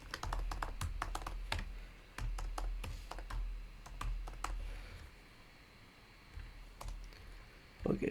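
Someone types on a computer keyboard while writing Python regex code, making quick close key clicks in bursts separated by brief pauses, with no speech.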